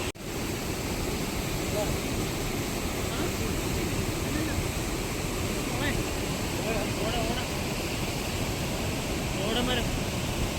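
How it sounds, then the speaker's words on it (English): A waterfall near a resort in Munnar, Kerala sends up a steady, loud rush of water that fills the whole stretch without letup, with faint voices now and then beneath the roar. "So this is the walk to the waterfall."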